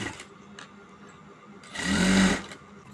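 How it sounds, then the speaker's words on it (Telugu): A sewing machine stitches blouse fabric in one short, loud burst of fast whirring after a quiet pause, with faint handling noise before it. "స్ట్రేట్ పీస్ మీద దీన్ని ఉల్టా పెట్టుకొని ఒక కుట్టేసుకోవాలి."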